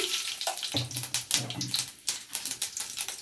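Mustard seeds hit hot oil for tempering and crackle and spit in quick, uneven pops. The sizzle is close but moderate in level.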